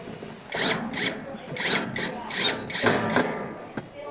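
A power drill drives screws in short repeated bursts, about six whirring pulses with brief gaps, close and fairly loud, while a gray three-drawer metal mobile pedestal is assembled.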